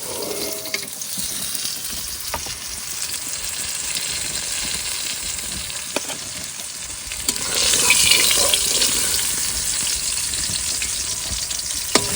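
Steady oil frying hiss of pointed gourd with a few sharp clinks, the sizzle swelling louder partway through and staying dense to the end.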